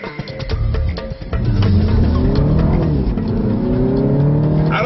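A 2015 Mini Cooper 4-door with front-wheel drive cruises on the open road, its engine note steady and close with a rising hum as it accelerates, tire and wind noise continuous throughout.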